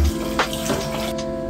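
Water pours steadily into a cooking pot for soup, a continuous close rushing splash with no talking.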